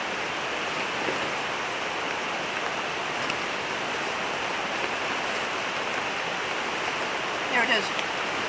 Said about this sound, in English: the rain's on its way back.